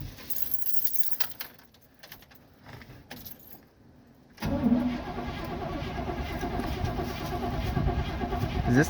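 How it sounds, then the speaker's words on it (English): A 1971 Chevy Cheyenne C10 on a 22-degree cold start: keys jangle and the starter clicks, then the engine cranks and catches, running loud and rough close by through the rest. "It's currently 22 degrees out, so cold start time."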